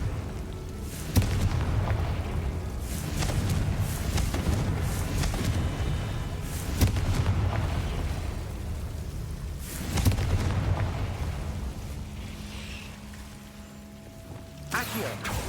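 Confringo spell explosions in Hogwarts Legacy, several booming bursts spaced apart over rumbling game ambience, loud and close.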